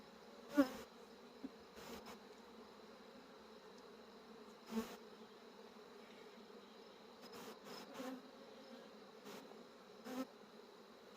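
Honey bees robbing an open beehive, heard as a steady low buzzing hum throughout, with a few brief louder passes of individual bees near the microphone.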